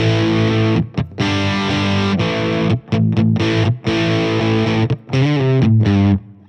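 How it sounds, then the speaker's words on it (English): An electric guitar plays classic rock chords through a Marshall amp replica in Fender Studio Pro, heavily distorted and bathed in large hall reverb, with short choppy stops between loud sustained strums. "looks like a Marshall replica with a large hall reverb"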